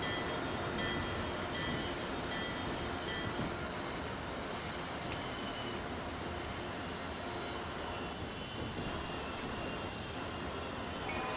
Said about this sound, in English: there's the El Paso train arriving